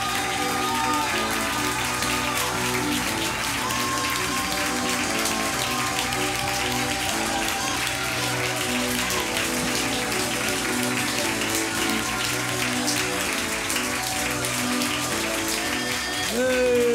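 A church congregation claps hands together in a dense, continuous patter over about seventeen seconds, with music and voices mixed underneath at a moderate level.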